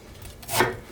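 A single knife stroke cuts through a pear on a cutting board, one short close chop with no speech, while vegetables are prepared for summer napa cabbage water kimchi.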